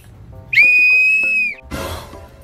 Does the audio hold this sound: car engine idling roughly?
no